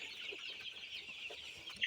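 Hens, 24-day-old Sonali chicks, cluck softly and intermittently while feeding, over a steady high hiss of insects or ambient noise.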